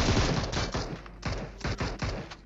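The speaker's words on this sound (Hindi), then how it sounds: "खैर तभी इसका टीममेट पे भी फायर करता है।" Rapid gunfire crackles in a mobile battle royale game, a string of sharp, loud, closely spaced shots in bursts with a short pause midway.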